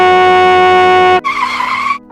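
A loud, sustained horn blast from a speeding Mio motorbike holds for over a second, then breaks into a short harsh rushing, skidding burst that fades out, with no voices.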